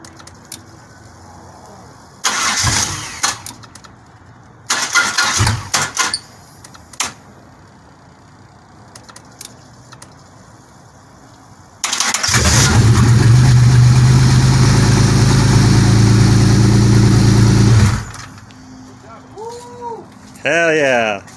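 A rusty 1997 Pontiac Grand Prix GTP two-door coupe with its ignition drilled out cranks in a couple of short loud bursts, then catches and runs strongly for several seconds before settling, with voices nearby.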